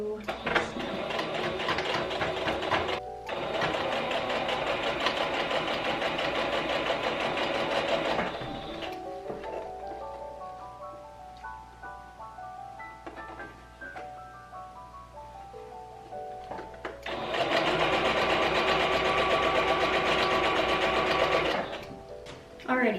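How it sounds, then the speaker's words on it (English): A sewing machine stitches a dress hem in two long, loud whirring runs, with a quieter slower stretch between them that carries a faint melodic sound. "We're pretty much just adding in our hem at the very bottom. Okay, let's sew this now."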